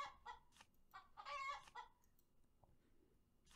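Chickens cluck in a quick burst of short, close, fairly loud game sound effects from the card game Terracards, fading into a quieter gap afterward.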